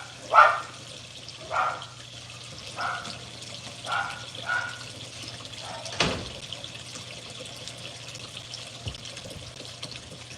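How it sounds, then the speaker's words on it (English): A dog barks behind a shut door inside a house, several muffled barks spaced apart in the first half, fairly faint against a steady low hum, with one louder thud near the middle. "because Opie's in there barking"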